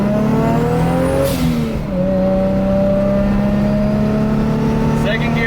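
A 1JZ-swapped Datsun 280z revs hard through second gear, its engine note climbing steadily in pitch with a brief dip at a shift, loud and close. A voice speaks briefly over it.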